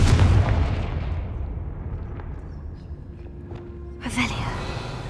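The Confringo explosion spell in the video game Hogwarts Legacy sets off a loud, deep boom at the start that rumbles and fades. A second, sharper burst follows a few seconds later.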